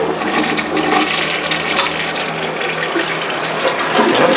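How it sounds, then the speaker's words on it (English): A toilet flushing in a guest bathroom during a home inspection: a loud, steady rush of water heard close up, continuous for several seconds without any voices. "Let's see if it flushes."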